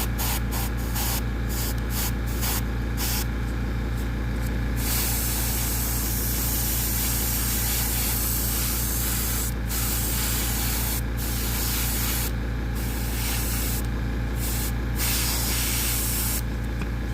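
An airbrush sprays steadily on a miniature figure from a kill team, giving a continuous loud hiss with brief pauses in the first few seconds and a handful of short gaps later on.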